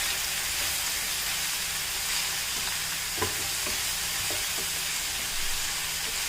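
A frying vegetable stir-fry hisses and sizzles in a pan while a spoon stirs and mixes it, with soft scraping knocks at irregular intervals over a constant frying hiss.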